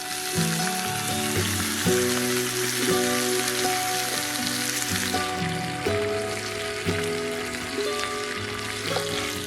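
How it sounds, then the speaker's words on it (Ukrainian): Pork ribs sizzle and crackle steadily in hot fat on a fire disc over an open campfire, a loud continuous frying hiss with no voices. "Викладаємо реберця на диск і залишаємо смажитись."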